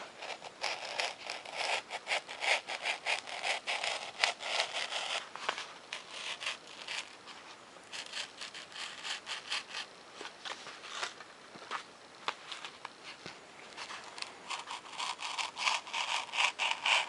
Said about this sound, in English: for the ends here, I'll use my X-Acto knife